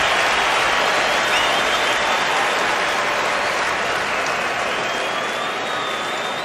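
A stadium crowd at a 2014 NFL game between the 49ers and Broncos applauds a player, a dense, loud wash of clapping and cheering that holds steady and fades slightly at the end.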